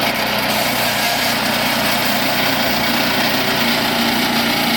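A Woodland Mills HM122 sawmill engine runs steadily at high revs while cutting through a log, a loud continuous buzzing drone with no pauses or talk.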